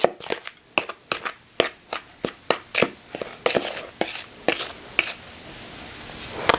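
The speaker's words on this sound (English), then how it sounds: "You can use a sifter, or you can use a tea strainer like I have here." Flour being sifted through a handheld tea strainer for an angel food cake, heard as a run of close, crisp tapping and rustling bursts, evenly spaced at first and then thinning into a soft, steady hiss.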